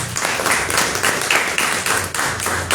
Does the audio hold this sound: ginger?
no